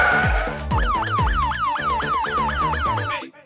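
A fast, repeating wail of an ambulance siren rising and falling about eight times, loud and close, over a thumping low beat.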